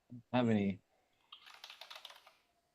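Someone types rapidly on a computer keyboard during an online group call, a close, steady patter of key clicks lasting about a second after a brief voice is heard.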